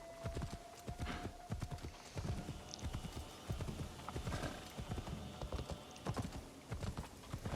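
Horse hooves clip-clopping at a steady trot while riding in Assassin's Creed Shadows, the rhythmic thuds fairly close and continuous, with a brief whinny and faint background ambience.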